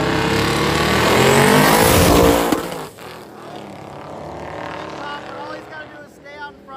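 Drag racing truck roars down the strip at a heads-up drag-and-drive event, a loud engine howl that peaks then fades as it passes into the distance, leaving lower engine rumble behind with a voice talking over it.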